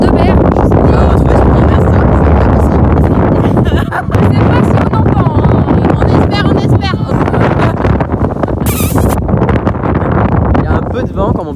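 Strong wind gusts buffet the microphone at the seaside late at night, a continuous loud roar that dips briefly midway.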